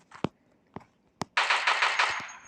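A few single gunshots ring out, then a rapid burst of automatic fire, sharp and close, with video-game style crispness.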